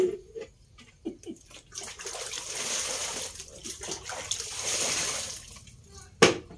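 Water sloshes and splashes as cloth is scrubbed and wrung by hand, with irregular wet slaps and a brief sharp splash near the end.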